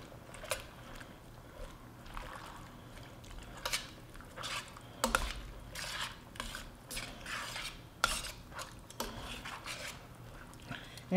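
A spoon stirs a creamy chicken and mushroom sauce with cream and basil in a pan, making a series of irregular scraping and sloshing strokes up close, with no talking.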